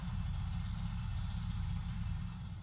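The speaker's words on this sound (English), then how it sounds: "Start the engine and allow it to warm up at idle for 2 to 3 minutes." An Indian 111/116 motorcycle engine idles while warming up, a quiet, steady low throbbing pulse that continues evenly throughout.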